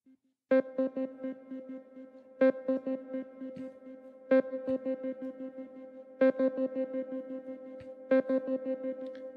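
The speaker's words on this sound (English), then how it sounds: "Let's add some reverb." A synthesizer loop plays with reverb added. Bright note clusters strike about every two seconds, each followed by a pulsing run of repeated tones with echoing tails. No one speaks.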